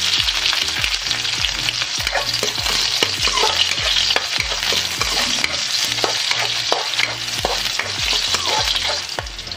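Garlic and onion sauté in a hot pan for Filipino ginisang repolyo, a steady loud sizzle with repeated stirring scrapes and clinks throughout, no talking.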